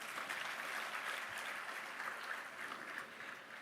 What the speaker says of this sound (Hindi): इस बेटी के लिए तो ताली होनी चाहिए।